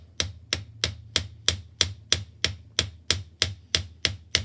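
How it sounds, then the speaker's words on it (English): Sharp metallic taps of a small hammer on sterling silver ring out in a steady, even rhythm, about three per second, close and clear with no talking. "I'm going to hammer in the center with a smaller hammer"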